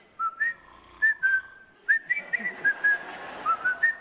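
Someone whistles a light, chirpy tune in short phrases with brief pauses between them, close and clear with no voices over it.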